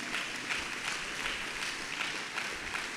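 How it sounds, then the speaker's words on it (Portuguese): A church congregation applauds during a Wednesday evening service, a steady dense patter of many hands that holds evenly throughout with no speech over it. "aplauda o Senhor em nome de Jesus"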